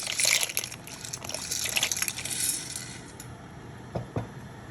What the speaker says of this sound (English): So now I'm boiling in the salted water the chickpea pasta, which is actually made with veggies.